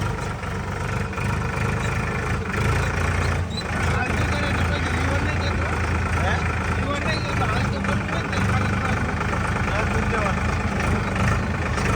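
A tractor engine idles steadily with a low, continuous rumble on a village road toward farm fields, running unbroken for the whole stretch while someone talks over it.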